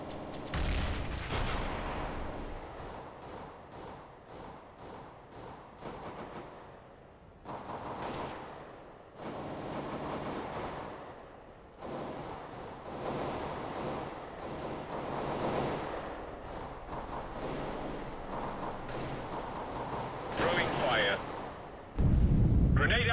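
Bursts of gunfire and grenade blasts in a CS:GO match on the Cache map, with rapid shots and booms scattered throughout at moderate loudness under intermittent voices, ending with a heavier explosion.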